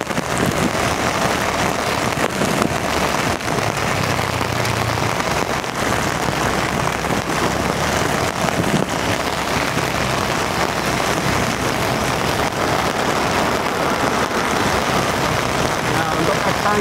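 Very heavy rain pours down in Bekasi, a dense, constant roar of water hitting surfaces, loud and unbroken from start to finish, with some wind buffeting the microphone.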